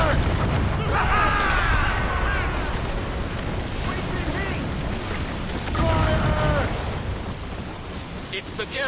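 Naval cannon fire from a sailing ship in Assassin's Creed Rogue booms under continuous rumbling water and battle noise, with shouting voices layered over the heavy low roar.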